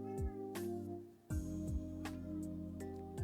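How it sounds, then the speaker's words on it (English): An unhappy cat meows several times in a row, with drawn-out, whiny cries that come close together and are clearly heard indoors with no talking. "I don't know if you can hear my cat. He's unhappy right now, it sounds like."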